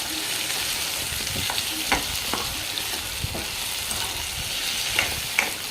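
Salted curry for chamagada pulusu, a taro curry, is stirred in a hot pan, giving a dense, continuous sizzle with soft scraping strokes of the spoon at a close, even level.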